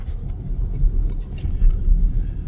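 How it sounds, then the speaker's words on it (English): A car rolls through heavy traffic on the way to a baseball game, giving a steady low road rumble and engine drone with no talking. "We're also in heavy traffic right now"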